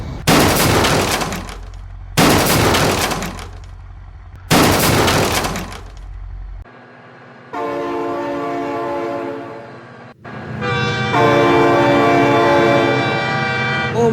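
In a truck transport video game with a double flatbed McQueen truck, three loud crashing, glassy bursts come first, then a train rumbles in and its horn sounds in two long, loud blasts.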